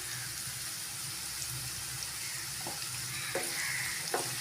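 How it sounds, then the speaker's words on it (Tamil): Sliced onions and curry leaves sizzle in a pan while chicken gravy is being prepared, a steady close frying hiss with a few faint stirring knocks near the end and no talking. "வெங்காயம் ஓரளவுக்கு வதங்கியிருக்கு. இன்னும் கொஞ்சம் கலர் மாறுற வரைக்கும் வதக்கி விட்டுக்கலாம்."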